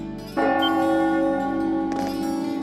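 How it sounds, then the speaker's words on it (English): A single bell strikes in the Trails of Cold Steel video game, marking five o'clock at an all-girls school; it enters with a clear tonal clang and rings on in a sustained, resonant hum, loud and alone. "That bell ringing must mean it's 5 o'clock"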